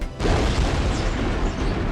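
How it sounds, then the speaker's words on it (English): A massive film explosion inside a tunnel, a sudden loud boom that breaks out after a brief pause and rolls on as a dense, sustained rumble. "a massive explosion shakes the entire tunnel"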